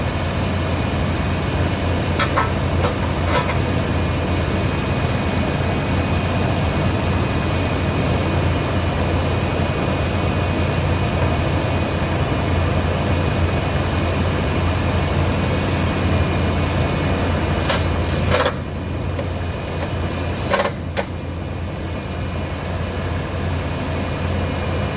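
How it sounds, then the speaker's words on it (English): A Toyota Tundra's 4.7-liter engine runs steadily after a throttle body cleaning, giving a constant low rumble at idle with a faint high whine and a few brief clicks, heard up close without talk. "She's revving just like she should."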